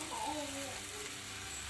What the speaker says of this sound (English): I've put a knob of butter in there, and I'm just going to fry up 2 rashers for each